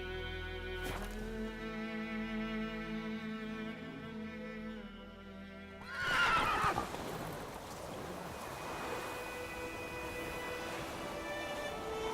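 A horse whinnies in a long, faint, drawn-out call, followed by rougher, noisier sounds of movement, heard quietly and at a distance.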